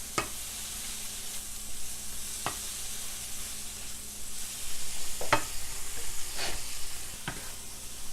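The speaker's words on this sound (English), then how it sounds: "This takes like 5-7 minutes to fully cook the broccoli." Broccoli fries in a pan with a steady, close sizzle, stirred now and then with a few sharp scrapes and clicks of a utensil, and no one speaking.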